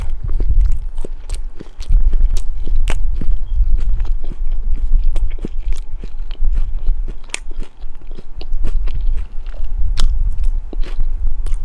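A McDonald's Big Mac with barbecue and sweet and sour sauces is bitten and chewed up close, giving loud, repeated crunchy bites and wet mastication with no talking.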